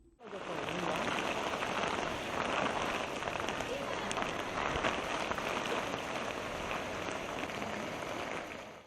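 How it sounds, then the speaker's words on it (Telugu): Heavy monsoon downpour pours down in a dense, steady hiss that holds at a constant loud level throughout. "భారీ వర్షాలు కురుస్తున్నాయి"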